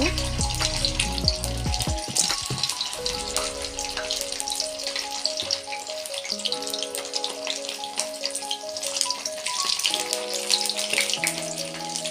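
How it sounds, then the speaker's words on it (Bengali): Chopped egg pieces fry in hot mustard oil, giving a steady, bright sizzle and crackle that runs throughout, close and fairly loud, with no speech. "কেটে রাখা এই যে ডিমের টুকরোগুলো আমি তেলের মধ্যে দিয়ে ভালো করে বেছে নেব"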